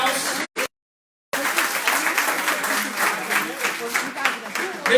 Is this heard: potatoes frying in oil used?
no